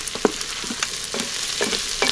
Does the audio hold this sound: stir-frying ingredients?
yes